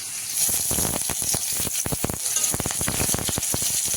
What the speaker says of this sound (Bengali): কড়াইতে তেল দিয়ে দিয়েছি দিয়ে দেবো একটু পেঁয়াজ কুচি